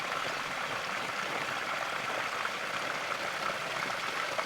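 Steady rushing water of a stream flowing through a desert canyon near Shoshone, California, a continuous broadband wash heard from above at moderate distance, with no speech over it.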